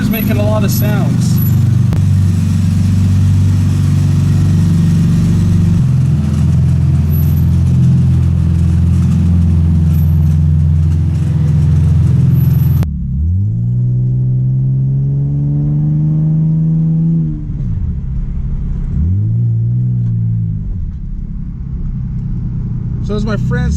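Loud interior engine drone and road rumble from a 25-year-old 1993 Toyota Supra driving in Korea, steady and close, with the engine note shifting and rising mid-clip and voices talking over it.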